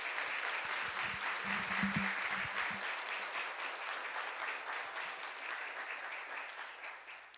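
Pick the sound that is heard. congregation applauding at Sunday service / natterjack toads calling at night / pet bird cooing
congregation applauding at Sunday service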